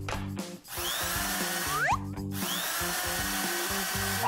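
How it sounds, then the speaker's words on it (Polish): A power drill with a whisk attachment whirs steadily and loudly for several seconds over a bed of background music, with a brief dip early on. "Potrzebuję wiertarki i trzepaczki!"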